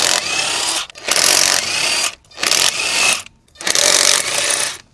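Power impact tool loosening lug nuts from a Ford Ranger pickup wheel, four loud close rattling bursts of about a second each, separated by short silent gaps.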